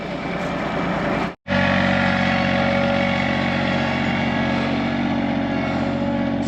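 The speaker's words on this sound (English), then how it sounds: "It's amazing how a little tractor pulls this thing across the" A small two-wheel-drive tractor hauls a load across a muddy field, its engine a steady, loud drone broken by a single brief dropout of sound.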